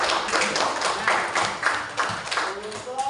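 A class of fourth-grade schoolchildren clapping in a classroom, a run of loose rhythmic claps repeating about every half second, fairly close and loud, with voices mixed in.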